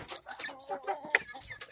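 Backyard chickens cluck softly in a quick string of short calls, close by and fairly quiet, with one sharper note partway through.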